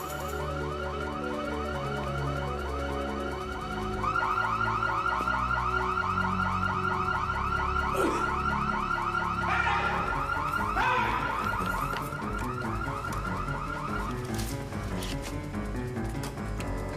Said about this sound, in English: Something set off the alarm.